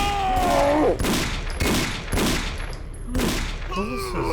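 Rapid bursts of gunfire from the horror game Condemned: Criminal Origins crack loudly in repeated volleys across the whole stretch, with brief gaps between the firing runs.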